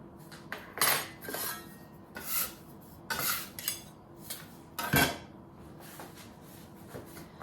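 A metal fork presses and crimps the dough edges of homemade hot pockets on a work surface, making a run of sharp clinks and scrapes in irregular bursts, fairly close, with no talking.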